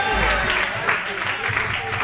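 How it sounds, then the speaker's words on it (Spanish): An audience applauds a drummer named Ernesto at a live jazz session, a short burst of clapping mixed with a voice talking over it. "Un aplauso para Ernesto."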